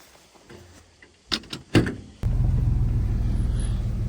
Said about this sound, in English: And then we just jump back in the truck, keep driving.